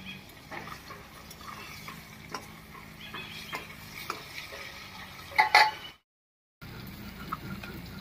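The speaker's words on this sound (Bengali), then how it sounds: "বাকি মাছগুলো ভাজা হতে থাক" Small fish (China punti) frying in oil in a pan, with a steady low sizzle and scattered scraping, stirring and utensil clinks, a louder clatter near the end, then a brief silence and quieter sizzling again.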